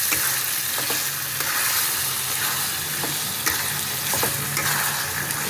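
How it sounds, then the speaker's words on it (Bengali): Chicken sizzles steadily as it fries in a spice masala with kasuri methi, with repeated scraping strokes of a spoon stirring the pan close by. "আমি এখন চিকেনটা সব এর মধ্যে ছেড়ে দেবো, দিয়ে ভালো করে একটু কষিয়ে নেব"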